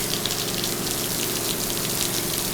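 Heavy rain pours steadily at night, a dense continuous hiss of water falling on surfaces with no voices, loud and unbroken throughout.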